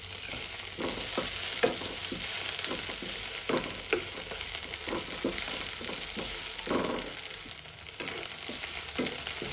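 Shrimp paste (ginamos) sizzles steadily in a pan with onion while a utensil stirs it, giving repeated scraping strokes over a constant loud frying hiss, no voices.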